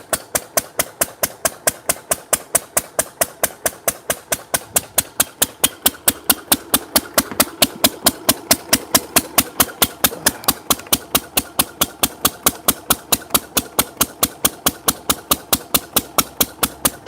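A small engine spins an alternator that powers an inverter, giving a fast, very regular ticking pulse over a low running hum, steady and close for the whole stretch.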